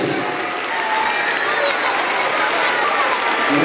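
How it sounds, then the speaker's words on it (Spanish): Steady applause for a school orchestra at a Mother's Day school event, a dense continuous wash of clapping from an audience that holds even and fairly loud throughout, with no voices rising above it. "Fuerte el aplauso para ellos."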